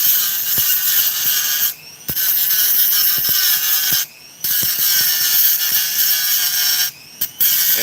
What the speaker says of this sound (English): Let me grind this down right quick